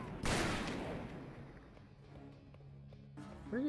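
Gunfire in Call of Juarez: Bound in Blood, a sharp loud shot burst at the start with a decaying echo, followed by fainter scattered pops and a voice at the end.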